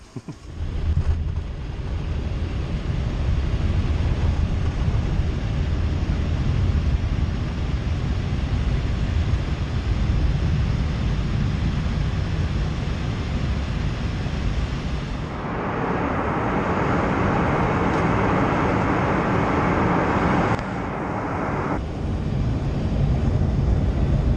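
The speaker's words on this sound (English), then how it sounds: "You ever been in a plane this small?" Small airplane in flight, a steady loud engine drone with heavy wind rush filling the cabin throughout, changing character briefly midway.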